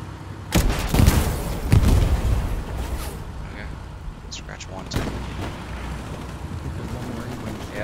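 Gunfire and explosions in the World War II video game Hell Let Loose, a couple of heavy close booms early on followed by scattered distant shots under ongoing battle noise.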